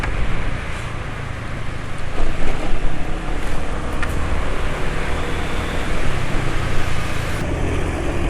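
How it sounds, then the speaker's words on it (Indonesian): A Vespa scooter engine runs steadily with a coarse, buzzing drone, heavily mixed with wind rush against the microphone throughout. "ternyata suara mesin masih lumayan halus kok"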